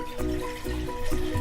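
Water pouring from a cup into a medium to large cooking pot, a steady close splashing flow with brief surges.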